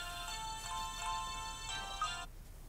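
A mobile phone left behind rings with a melodic ringtone, heard at moderate distance in a quiet room, a steady looping tune that cuts off near the end, with no voices.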